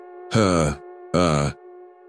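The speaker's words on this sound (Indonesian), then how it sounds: "Suara napas itu ada di belakangnya. Pelan panjang seperti seseorang yang berdiri sangat dekat." Eerie horror-story breathing effect: two slow, long, drawn-out breaths, close and moaning, over a steady ominous drone.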